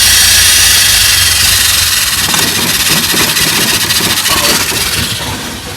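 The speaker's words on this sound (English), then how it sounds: "going back to idle" A 1984 Pontiac Fiero engine idles close up, a loud, steady rumble with a constant mechanical whir that eases slightly toward the end.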